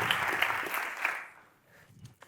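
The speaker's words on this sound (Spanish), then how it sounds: "Així que fort aplaudiment pa Diego Peña." An audience claps for Diego Peña at an interview event, quiet scattered applause that fades out after about a second and a half, followed by a few faint sounds.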